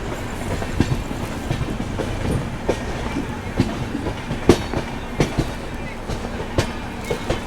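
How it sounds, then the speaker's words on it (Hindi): Sampark Kranti Express train pulling into Nagpur Junction, with steady rumble and repeated clickety-clack wheel knocks on rail joints, close and fairly loud throughout, with a voice talking over it. "अभी अपनी संपर्क क्रांति एंटर कर रही है नागपुर जंक्शन में"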